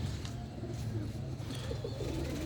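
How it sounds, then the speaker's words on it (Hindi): A blue pigeon with ring number 41 coos in low, steady repeated calls, fairly close, over a continuous background hum. "ये है जी मेरा नीला कबूतर, और इसको रिंग नंबर है 41"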